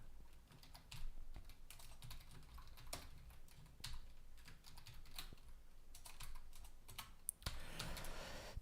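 Rapid typing on a computer keyboard, close and continuous with dense irregular clicks and key bursts throughout, slightly louder near the end.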